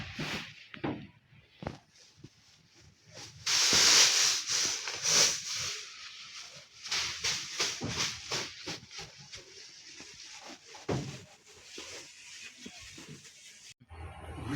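Maize grain being poured for cattle feed, a loose hissing rush of kernels with a louder burst partway through and then rough, uneven rustling and scraping, close by with no talking.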